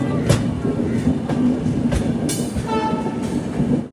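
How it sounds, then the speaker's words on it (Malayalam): Saraighat Express sleeper train pulling into Guwahati railway station in Assam after the run from Kolkata, a steady close rumble of wheels and carriages with a few brief sharper bursts riding over it. "ട്രെയിനിൽ ഇതാ അസാമിലെ ഗുവാഹട്ടി റെയിൽവേ സ്റ്റേഷനിലേക്ക് എത്തുകയാണ്"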